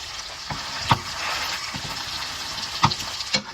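A steak sizzles loudly in a hot pan while being basted, the steady frying hiss punctuated by a few sharp clatters and spoon knocks, with no speech.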